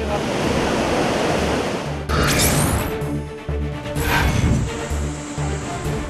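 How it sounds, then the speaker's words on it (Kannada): Loud, steady roar of floodwater rushing across a road like a stream after continuous rain, with a voice talking over it and some brief louder surges. "ರಸ್ತೆ ಮೇಲೆ ಹಳ್ಳದಂತೆ ನೀರು ಹರಿಯುತ್ತಿದೆ"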